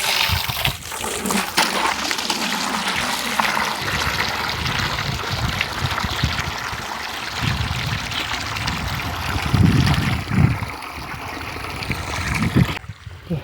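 Wild yam (kloi) being washed by hand in water: continuous close splashing, sloshing and pouring, with heavier splashes toward the end.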